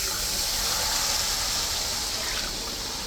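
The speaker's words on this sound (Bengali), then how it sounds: "এখন জল দিয়ে দিলাম।" Water gushes into a pot of frying Gobindobhog rice for chicken biryani, a loud, steady rushing pour from start to end with no voices.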